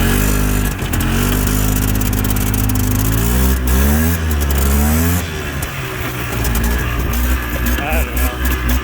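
A cheap quad ATV at a local sand dune runs loud and close, its engine revving up and down in rising and falling sweeps, with a possible transmission noise and a voice heard briefly over it.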